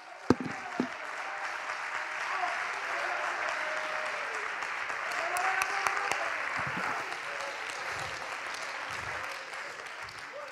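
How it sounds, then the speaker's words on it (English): Church congregation clapping along during a revival sermon, a sustained wash of hand claps at moderate distance, fairly faint, with scattered sharper claps and low voices beneath. "Clap your hands with me."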